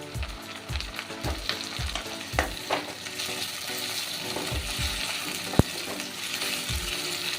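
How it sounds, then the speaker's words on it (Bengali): Pineapple pieces fry in a pan for a pineapple chicken curry. A steady sizzle runs throughout, broken by repeated close spatula knocks and scrapes against the pan, and no one speaks. "আনারসটাও কিছুটা ভেজে নেব।"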